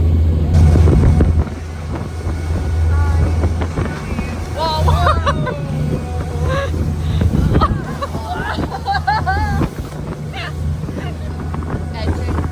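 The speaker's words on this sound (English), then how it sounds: "It's so windy." Wind buffets the microphone over the drone of a moving boat on choppy water in Sydney, while people talk and call out above the rushing noise.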